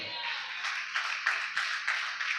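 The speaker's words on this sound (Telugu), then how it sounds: "చప్పట్లు కొడదాం." A church congregation claps together during a Sunday sermon, with a soft, steady wash of many hands and a few louder rhythmic swells. The clapping is moderately distant and continues throughout with no talking over it.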